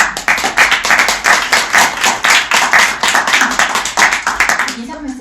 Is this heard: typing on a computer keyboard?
no